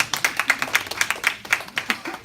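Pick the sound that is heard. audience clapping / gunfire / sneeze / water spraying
audience clapping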